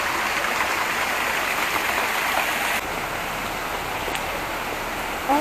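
A steady rush of falling water splashes in a park grotto, an even, continuous hiss that stays close and fairly loud with no talk over it.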